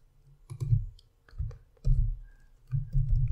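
Several sharp clicks of a computer mouse come in small clusters, close and fairly loud, with quiet gaps between them and no talking.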